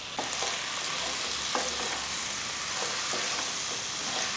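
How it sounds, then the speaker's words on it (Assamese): Duck meat sizzles and fries steadily in hot oil with salt, turmeric, Kashmiri chilli and garam masala, a close, continuous crackle with occasional stirring scrapes and no talking. "আৰু এইখিনিটা ভাজি লওঁ যেতিয়া তেল ওলাব ধুনীয়াকৈ ৰঙচুৱা হ'বগৈ"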